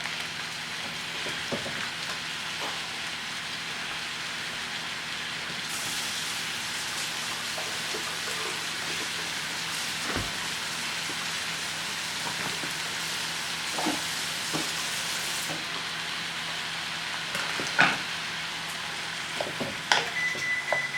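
Sausage browns in a pan, giving a steady, fairly loud sizzle broken by occasional sharp pops and crackles that grow a little busier toward the end.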